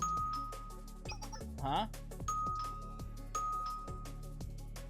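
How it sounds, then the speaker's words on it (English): A doorbell chimes once inside the video game Blue Archive, a bright tone under game music with a steady rhythmic beat, and a voice makes a brief questioning sound. "Was that a doorbell?"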